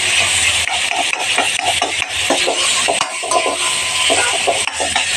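Ingredients stirred and worked together in a pot, a loud sizzle beneath repeated scraping and knocking of a spoon or spatula, close up with no speech.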